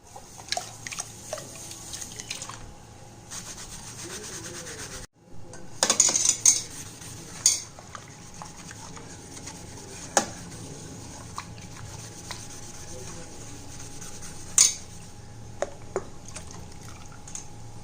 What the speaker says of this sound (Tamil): ரொம்ப லைட்டாக ஒரு ஸ்க்ரப் வச்சு நீங்கள் தேய்ச்சிங்கன்னா போதும்